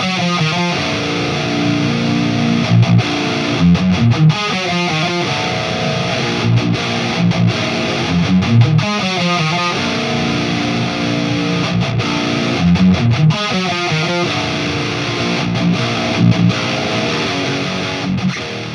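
An electric guitar plays loud, thick distorted tones through a tube amp into a RedSeven Amp Central reactive load, with sustained chords broken by rhythmic chugging accents and no talking.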